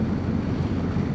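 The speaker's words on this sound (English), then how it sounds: "there's a bit of a wind coming in off the sea." Wind coming in off the sea at Downpatrick Head on Ireland's Atlantic coast roars steadily across the microphone, a loud, continuous rushing blast with no talk.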